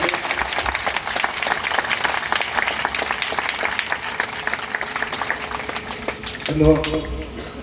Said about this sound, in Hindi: इसलिए आचार्य जी के लिए जोरदार एक बार तालियों से अभिनंदन करें।